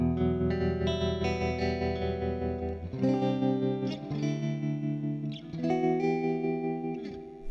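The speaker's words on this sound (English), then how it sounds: "So at a lower setting we get a little bit more kind of a prominent tremolo effect." Sustained electric guitar chords through an MXR M305 tremolo pedal set to a reverse optical waveform, pulsing with a rhythmic wobble, volume rising and falling steadily as the chords change, played alone.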